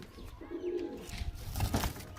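An Andhra pigeon in a loft gives a brief, soft, low coo close by, with some rustling and shuffling around it and no speech.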